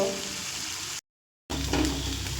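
Chicken filling seasoned with soy sauce sautés in a pan with a steady, close sizzle that cuts out for half a second before resuming.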